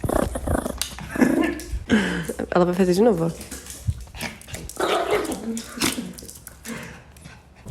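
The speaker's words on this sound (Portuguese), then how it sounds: "Nossa, tem uma cachorra." A female dog barks and whimpers in wavering, whiny yelps and growly bursts, close and fairly loud, with people talking over and between the sounds.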